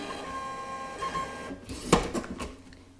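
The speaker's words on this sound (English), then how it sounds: "I print these on my Brother printer. It's a label printer. It is a thermal printer." A Brother thermal label printer feeds out a shipping label, giving a short burst of whirring and clicking mechanism noise with a sharper clack near the end, heard close and alone.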